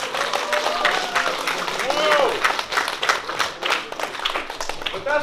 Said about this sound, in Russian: Ну же, громче аплодисменты